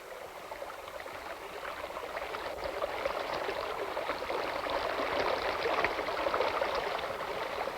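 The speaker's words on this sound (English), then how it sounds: "I closed my eyes and listened to the stream." A flowing stream along a nature trail, a steady, close rush and trickle of water that swells slightly louder midway and runs on alone without voices.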